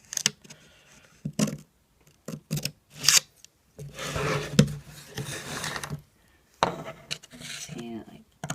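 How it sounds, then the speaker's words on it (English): Scissors snip into the corners of paper for DIY Disney letters, giving a series of short, close cuts and rustles with pauses between them, and a few crisp snips stand out. "we're just going to cut in the corners so that it'll be easier to fold"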